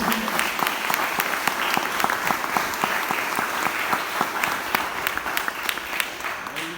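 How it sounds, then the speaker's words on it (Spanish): A church congregation gives a loud, sustained round of applause during an evening service, a dense, steady wash of many hands clapping with a few sharper claps standing out. "Démosle un fuerte aplauso al Señor en esta noche."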